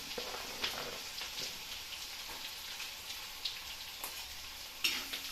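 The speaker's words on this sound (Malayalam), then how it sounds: "ഒന്ന് ഇളക്കി കൊടുക്കാം." Chopped ginger and garlic frying in a pan, a soft continuous sizzle broken by a few sharp clinks and scrapes of stirring.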